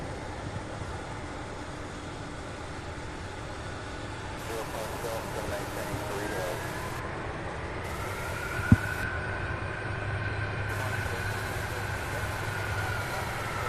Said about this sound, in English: as this beautiful MD-11 makes its way over to the ramp